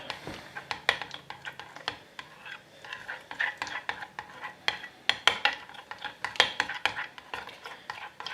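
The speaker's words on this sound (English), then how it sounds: "And we're going to start to mix all this up." Fishing bait glug is stirred with fluoro yellow bait dye in a container, producing repeated close wet scraping and clicking strokes in an uneven rhythm, with faint low background noise throughout.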